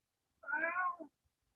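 A single drawn-out cat meow, close and clear, rising slightly then trailing off, with silence before and after.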